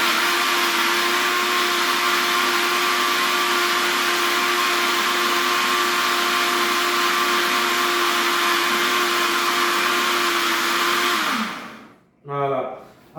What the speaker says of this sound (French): on mixe bien comme il faut à ce que de manière le beurre soit bien mixé